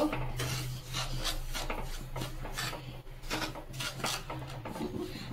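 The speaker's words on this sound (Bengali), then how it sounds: "দু থেকে 3 মিনিট একটু আমি নেড়ে চেড়ে নেব" Semolina being stirred in a pan for sweets, with a spoon scraping and rubbing against the pan in a continuous rasp and repeated strokes, close and clear.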